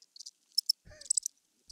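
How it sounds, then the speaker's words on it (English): Short bursts of cricket-like chirping come in quick clusters, isolated and fairly close, with a brief lower warbling tone in the middle. "It's a cricket sound, bro."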